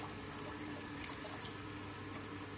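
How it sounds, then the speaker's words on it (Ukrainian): A ZPS15-9-140 booster pump pushes water at its third speed, giving a steady, faint rushing flow with a low hum and no breaks. "Видно, що перекачує більше водички."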